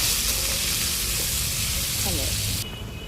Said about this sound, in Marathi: आता टाकायची मिरची. बारीक गॅस ठेवायचा आहे सगळं करताना.